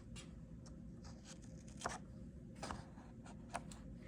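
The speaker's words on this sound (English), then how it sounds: "we're gonna get our little scissors out here real quick and cut these little edges off." Quiet, crisp snips of scissors through paper, a few sharp cuts spaced a second or so apart with soft rustling between them.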